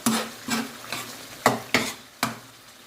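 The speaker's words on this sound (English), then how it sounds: "so that's the second base gravy in. Again, leave that to reduce down by a third" Base gravy for a chicken madras curry sizzles and is stirred in a hot pan, with six rhythmic scraping strokes over a steady frying hiss, no talk.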